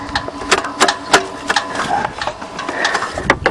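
A Buick crushed twice by a 20-ton dozer, its engine running after being put in drive, gives a close, uneven clattering chatter of repeated sharp ticks and knocks.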